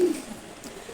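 Pigeons resting in a loft coo softly in a low, short murmur at the start, then fade into a quiet, hissy room tone.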